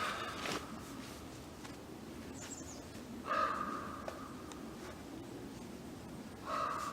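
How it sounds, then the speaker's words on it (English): Harsh bird calls ring out twice, loud and fairly close, over a steady outdoor hiss in a bushcraft camp, with faint rustling in between. "I really wonder what kind of bird that is."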